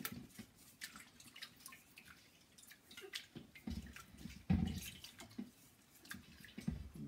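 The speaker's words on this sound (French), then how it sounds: "Je vais venir rincer mon vase pour enlever le produit qu'il y a dessus." Water splashes and drips while a vase is rinsed to wash off a product, with irregular close trickling and sloshing, fairly quiet throughout.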